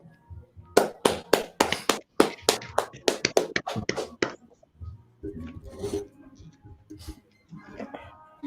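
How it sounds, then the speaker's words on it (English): A quick run of about a dozen sharp, evenly spaced hand claps at a gathering on West 125th Street in Harlem, New York, fairly close and loud, then stopping as voices and general room noise take over. "clap it up"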